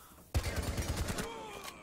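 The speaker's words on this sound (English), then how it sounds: "GD, you almost ran here, into my gunfire." Rapid burst of gunfire in the video game Rainbow Six Siege erupts suddenly, a fast rattling volley of shots lasting about a second before trailing off into a faint ringing tail.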